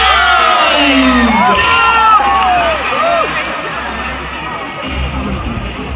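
A large crowd at a Karbi Anglong Day celebration in Diphu cheers and shouts loudly and continuously, with high excited voices and whistles rising over a dense roar.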